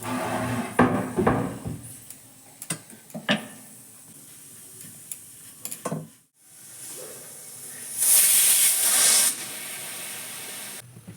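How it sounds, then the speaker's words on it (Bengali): Cheese-and-potato-filled paratha fries in butter and oil on a pan, giving soft crackles and scattered taps, then a louder sustained hiss toward the end, with no one speaking. "বাটার আর তেল এইভাবে দিয়েই পরোটাটা ভাজলাম"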